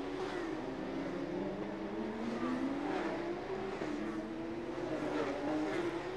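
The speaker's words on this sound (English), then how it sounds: "Why is car 10 Andrew Tang slowing down, especially in a corner" Porsche Carrera Cup race cars circle a street circuit at Chonburi, engines droning and rising and falling in pitch as they rev through corners, heard at a moderate distance without talk.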